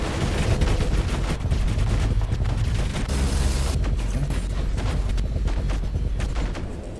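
Dense, loud rapid-fire gunfire in a video game, continuous bursts of shots layered over each other for several seconds with mechanical clatter, close and unbroken, with no talking.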